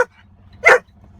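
A dog beside a pickup truck during trailer coupling work lets out a short yip and then one sharp, loud bark a moment later over a low engine-like rumble.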